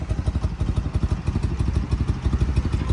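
A classic BMW R75 motorcycle engine idles close by after two years of disuse, a steady low, uneven thumping putter with mechanical clatter running throughout.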